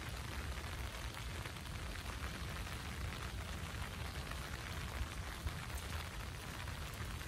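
Steady rain falling in a park with cherry trees, a dense even hiss across the whole stretch with no pauses and no voices.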